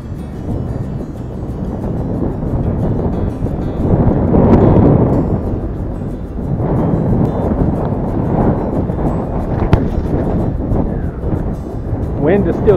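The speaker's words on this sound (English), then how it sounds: "Wind is still kicking pretty good." Wind buffeting the microphone while riding a bike, a steady rumbling roar that swells and fades in gusts, with a voice talking over it.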